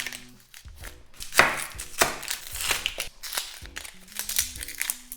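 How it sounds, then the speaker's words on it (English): A knife chops onions on a cutting board in a home kitchen, making a run of crisp, uneven taps and cuts, close and clear, with no talking. "So as the next thing, we're going to cut up the onions."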